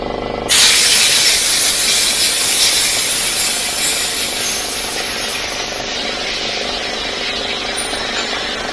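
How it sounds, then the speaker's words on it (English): Fine walnut-shell media blasting an aluminum intake manifold, a loud steady hiss that starts abruptly and holds continuous and close throughout, easing slightly toward the end. "we're done with the blasting with the walnut, fine walnut"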